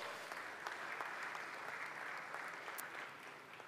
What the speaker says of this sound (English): A bigger round of applause to that as well.